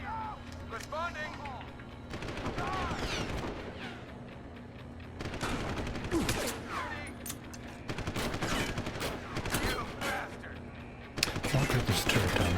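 Automatic turret gunfire in Deus Ex: Human Revolution, sustained bursts of rapid shots running through the whole stretch, with game voices and background talk mixed underneath.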